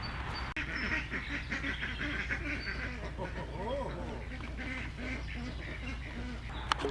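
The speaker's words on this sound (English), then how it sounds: "My ducks get territorial over water." Ducks quack and honk repeatedly in a busy yard, with a steady low rumble underneath. A person is talking over them as the birds squabble territorially around their water.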